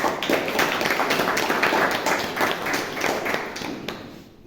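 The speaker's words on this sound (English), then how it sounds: "So a big round of applause for all the ECs." A small club meeting breaks into a few seconds of close, uneven hand clapping from a modest group, the individual claps distinct and fading out at the end.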